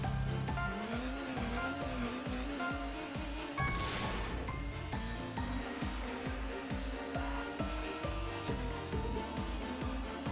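A racing car in the arcade game Horizon Chase Turbo, a Brazilian training car, with a rising and falling engine tone, tire squeals and a brief crash-like burst near the middle, over steady rhythmic game music.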